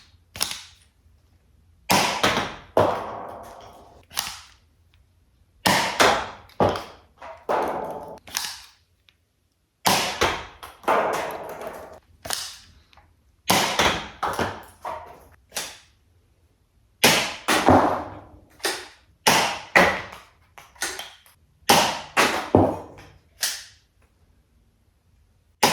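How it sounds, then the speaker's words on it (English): A Dart Zone Max Solo Pro build-it-yourself toy shotgun fires nipplehead-style foam darts in a string of sharp, loud, close pops, each followed by a quick mechanical pump clack, with short pauses between shots and no talking. "Firing the Solo Pro shotgun with nipplehead style darts"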